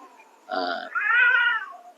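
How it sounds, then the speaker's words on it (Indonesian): A cat meows twice in quick succession, a short call followed by a longer drawn-out one, close and clear against near silence. "itu kan kucing"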